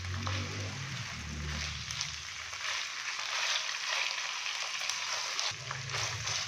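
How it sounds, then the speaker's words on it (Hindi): Minced chicken keema fries on a high flame for mash daal keema, a continuous moderate sizzle with stirring scrapes and a few clinks, with no voices. "चिकन का कीमा डालने के बाद अच्छे से इसको मिक्स करेंगे, और हाई फ्लेम पे 3 से 4 मिनट के लिए भून लेंगे।"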